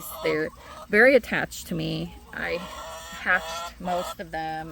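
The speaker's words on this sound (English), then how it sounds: "You can hear my chickens and my turkeys." Chickens and turkeys call on a homestead in a busy run of clucks, squawks and gobbles close to the listener, mixed with someone talking throughout.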